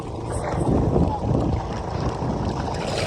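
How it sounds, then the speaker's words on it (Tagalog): Strong wind gusts buffet the microphone on a small fishing boat at sea, a steady low roar with rising and falling swells, continuous and close throughout. "Lakas ng hangin."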